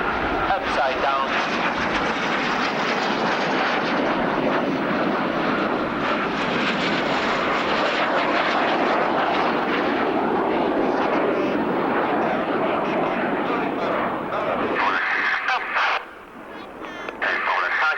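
Loud, sustained roar of fixed-wing aircraft engines as display planes fly a close formation routine with landing gear down at the 1990 RAF Abingdon airshow, a steady broadband drone that dips briefly near the end.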